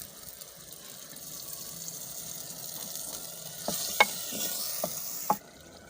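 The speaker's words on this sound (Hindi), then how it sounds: "अब पानी डालेंगे।" Water goes into a hot pot of beef pulao with tomatoes, chili and salt, giving a steady sizzling hiss with stirring and a few sharp clinks and knocks toward the end, close and fairly quiet.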